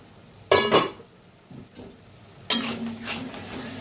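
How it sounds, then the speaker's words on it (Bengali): A metal lid is lifted off a cooking pot of potato and pointed gourd curry, giving two distinct clanking clinks a couple of seconds apart with a softer scrape between, close by in a quiet kitchen. "ঢাকনাটা উঠিয়ে দিই"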